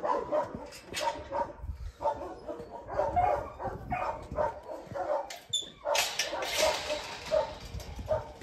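Several dogs bark and yip repeatedly in a lively, irregular chorus, fairly close, with some whimpering mixed in.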